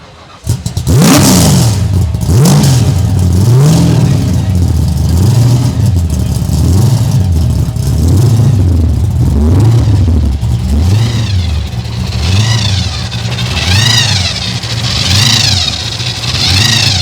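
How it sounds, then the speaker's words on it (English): Supercharged Ford Mustang street car, engine started then blipped over and over, each rev rising and falling in a rhythmic, loud, close snarl over a lumpy idle, with faster, higher blips near the end. "It's got quite the idle, doesn't it?"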